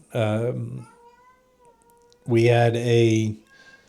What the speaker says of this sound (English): I'm going to tell my wife to come get the cat because she's standing outside whining.